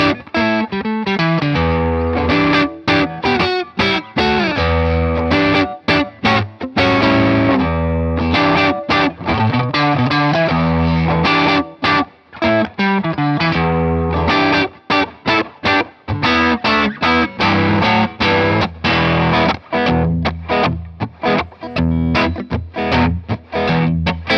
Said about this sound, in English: here's that setup emulating the classic mid-focused overdrive sound of an Ibanez Tubescreamer